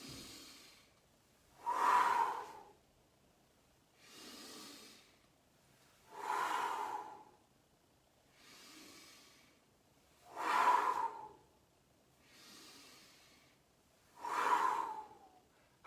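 Slow, deep breaths during a chakra energy exercise, seven rhythmic in-and-out rushes of air spaced a couple of seconds apart, close and soft with no talking.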